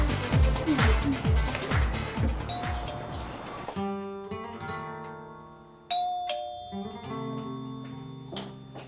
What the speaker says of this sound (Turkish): Zili çalıyorum.